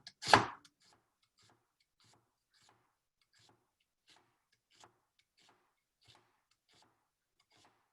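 A knife cuts shrimp for aguachile on a board, with one sharp chop at the start followed by a string of faint, evenly spaced light taps. No one speaks.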